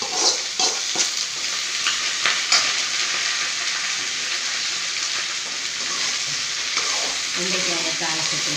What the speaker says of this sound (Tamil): வெண்டைக்காயை தாளிச்சத்தில் சேர்த்தாச்சு.